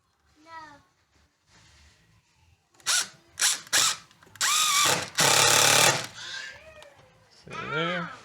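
A power tool drives screws into the strike plates of an exterior door, giving several short whirring bursts and then a longer, louder run, while someone talks before and after.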